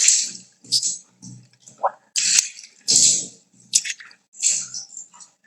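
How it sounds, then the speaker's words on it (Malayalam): Water is poured over a steel pipe during cleaning, producing close splashes and drips in short bursts separated by silence, with wet squishing sounds between them. "ഞാൻ വെള്ളം ഒഴിച്ച് കൊടുക്കുന്നത് കേട്ടോ"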